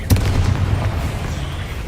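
A Confringo blasting spell in the Hogwarts Legacy video game bursts with a sharp boom at the start, then a low rumbling tail that fades over about two seconds.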